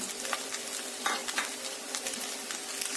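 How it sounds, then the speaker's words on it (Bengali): Fried egg and fried chicken land in a pan of street-food-style egg chicken chowmein, which sizzles steadily. A few soft stirring scrapes and clinks come through close by, and nobody speaks. "এবার আমি ফ্রাই করা এগ দিয়ে দিলাম, সাথে সাথে ফ্রাই করা চিকেন দিয়ে দিলাম।"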